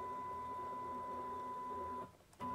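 A DIY CNC machine's ball screw spins with a steady motorised whine and hum, runs continuously, drops out briefly near the end, then starts again.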